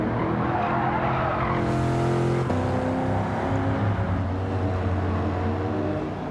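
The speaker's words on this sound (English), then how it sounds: "Lovely sounding car this." Car engine in a racing video game, heard at dusk on winding bends: a loud, continuous engine roar with rising revs that drop sharply at a gear change, then climb again, no talking.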